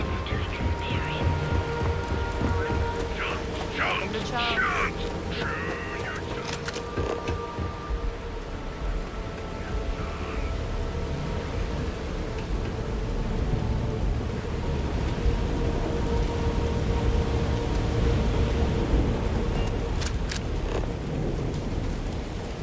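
Steady heavy rain drums on surfaces in the video game Starfield, with low rumbling thunder rolling underneath throughout, a continuous storm wash with no talking.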